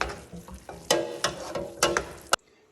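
A spoon stirs food in a sizzling pan after guacamole goes in, giving a series of close, irregular scraping knocks over a frying hiss that stops abruptly at the end.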